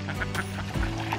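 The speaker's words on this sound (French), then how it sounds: "Et voilà, on a nourri les canards." Ducks being fed on an outing in Aveyron give several short nasal quacks over a low steady background, fairly faint and close, with no speech.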